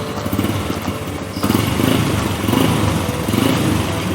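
A small engine runs steadily while it warms up to working temperature during routine engine maintenance, a loud, continuous, even rumble with a fast regular pulse and no one speaking.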